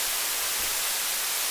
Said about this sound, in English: what you hear right now is just normal white noise